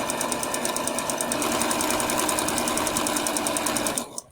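Sewing machine running a 5/8 inch seam, a fast even rhythmic stitching chatter held steady for about four seconds before stopping abruptly, close and alone.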